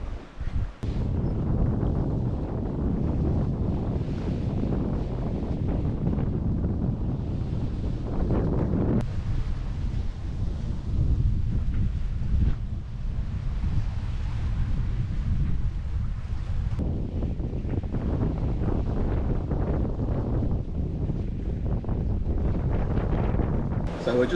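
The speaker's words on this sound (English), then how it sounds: "The wind was getting up to 25 knots for a while there. Seems to have dropped back to about 20 now" Strong wind of about 20 knots blowing over a sailboat at sea near the Bahama Bank: continuous rough gusting buffets the microphone, mixed with wave wash and shifting surges throughout.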